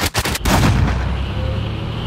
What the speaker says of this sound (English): on the transition out of it, you hear the gunshot